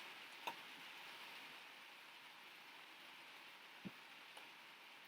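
Steady soft rain patters on a greenhouse roof from outside, a continuous gentle hiss with a few faint isolated drip ticks, quiet and even throughout.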